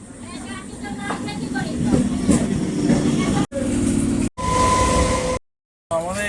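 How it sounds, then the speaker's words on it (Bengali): A train rumbles steadily into Ranaghat station on a rainy day, loud and continuous under nearby talking, with a few abrupt cuts in the sound. "আসছে ট্রেন, চলে এসছে বন্ধুরা।"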